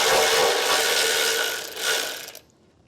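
Close, loud ratchet whirring as a 13mm socket works a bolt on a vehicle's rear bumper beam, one continuous buzzing run that stops abruptly near the end, with no talking.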